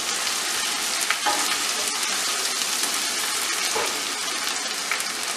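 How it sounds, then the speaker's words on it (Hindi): Chopped onion and grated ginger fry in hot oil in a pan as they are stirred, a steady close sizzle with occasional scraping sounds, no voices. "जैसे ही प्याज हल्की सी सॉफ्ट हो जाएगी तकरीबन 1 मिनट में, हम इसके अंदर डाल देंगे ये कद्दूकश की हुई अदरक। हल्का सा इसे भी चलाएंगे।"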